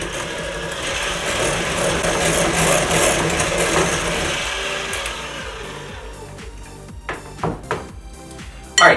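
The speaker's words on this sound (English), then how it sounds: "And then we go in and blend it again." A blender whirs loudly while mixing no-bake pumpkin pie filling, its motor whining steadily for several seconds, then winding down into a few short clunks and bumps.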